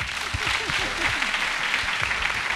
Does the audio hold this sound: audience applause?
yes